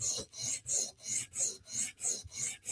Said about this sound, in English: So now we're just going to sharpen the edge.